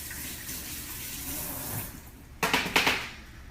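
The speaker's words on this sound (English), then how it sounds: "I'm going to rinse this." Water streams from a kitchen tap as fruit is rinsed for an apple galette, a steady faint hiss that turns into brief louder splashing bursts near the end.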